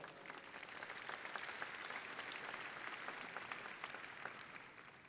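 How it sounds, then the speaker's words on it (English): Dense, steady applause fills a large keynote hall. A big audience claps continuously at an even level without letting up. "So give them a big round of applause."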